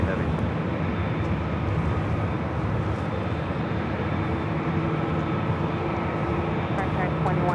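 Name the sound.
Delta airliner taking off at LAX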